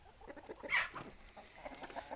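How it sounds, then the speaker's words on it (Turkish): A young rooster scuffles with a hen, letting out a sharp squawk amid soft clucking and rustling nearby, brief and fairly close. "Tavuğunla niye kavga ediyorsunuz oğlum?"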